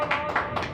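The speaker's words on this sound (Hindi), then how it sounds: "जोरदार तालियां, जोरदार तालियां लोगों के लिए।" Applause from an audience at the Delhi Idols talent event, a dense, even patter of many hands clapping at close range, continuing without a break over its brief span.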